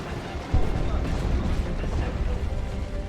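Explosions rumble through a 3v3 Dawn of War 2 battle: a dense, loud, continuous wash of booming blasts and battle noise, with a sharper hit early on.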